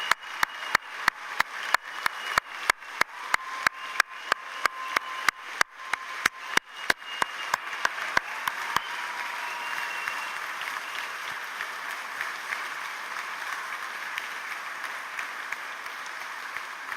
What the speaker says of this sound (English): I would like to suggest a tremendous, greatest possible round of applause for you, dear graduates